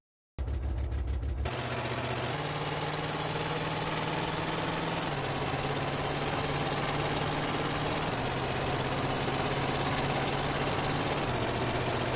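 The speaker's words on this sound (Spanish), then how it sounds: "cuando el camper alcanza su máxima velocidad, se escucha un efecto de sonido que realmente corresponde a otro vehículo, como la moto Freeway" A camper van in GTA San Andreas Definitive Edition runs at top speed, its steady droning engine loop holding for about twelve seconds with slight pitch shifts; the sound is a mismatched effect borrowed from another vehicle, such as the Freeway motorcycle.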